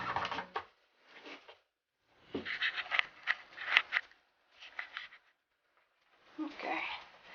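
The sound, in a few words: knife cutting through a coconut shell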